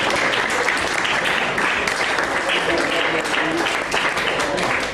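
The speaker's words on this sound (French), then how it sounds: "On applaudit le poète." A slam poetry audience applauds a poet, filling the room with loud, sustained clapping and some cheering throughout the stretch, with no break.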